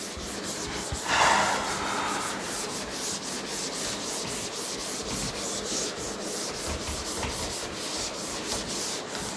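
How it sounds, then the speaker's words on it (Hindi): Steady scrubbing and rubbing as writing is erased from a board during a class 9 coordinate geometry lesson, close and continuous, with a slightly louder swipe near the start and no speech. "मैं इसको रब कर रहा हूँ"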